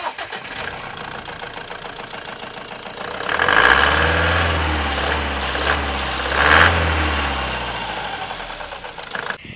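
A Mahindra 2.5-litre four-cylinder turbocharged intercooled diesel idles with a steady low rumble and clatter, rising in two short revs before settling back, heard alone and close.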